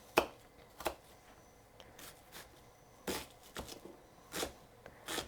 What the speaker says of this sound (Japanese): で今日はミキサーに入れるのでザクザクっと切ります